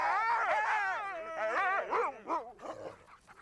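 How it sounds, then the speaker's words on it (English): Sled dogs at the Jungfrau terminus in Switzerland howl and whine excitedly in several overlapping, wavering voices. The sound is close and loud, then breaks into shorter yelps as it fades. "or ride on a dog sled"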